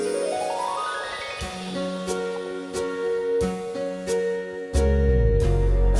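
Lowrey Marquee home organ playing its Intro 2 style: sustained chords with a rising arpeggiated run, soft percussive ticks on the beat, and a fuller bass-heavy swell entering near the end, alone without talk.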